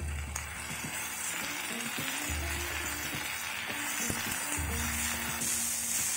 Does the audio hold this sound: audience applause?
no